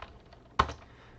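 A single sharp computer keyboard keystroke lands close and crisp while a command is typed, surrounded by near silence.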